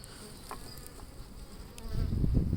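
Honeybees buzz around an open Layens hive during an inspection: a steady, close insect hum that thickens and grows louder toward the end, with no talking.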